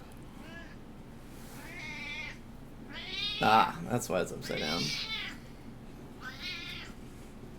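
Pet cat meowing several times in short, rising calls, nearby and fairly quiet, with a person talking over and between the meows.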